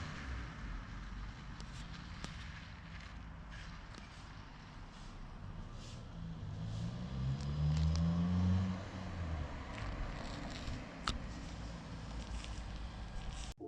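A 1997 Honda Civic with an Apexi WS2 exhaust passing by outdoors, its engine note rising and swelling as it nears, then trailing off under steady wind noise.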